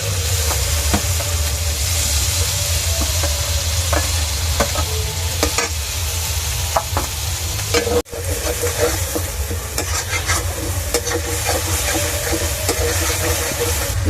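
Tomato paste with turmeric and spices sizzles loudly in a pan for a fish curry, a dense steady hiss with scattered stirring scrapes and a brief break partway through; no one talks.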